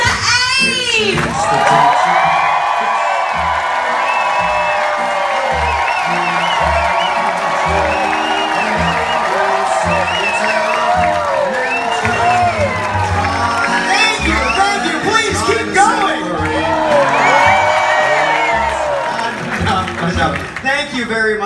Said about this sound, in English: that completely spontaneous and impromptu round of applause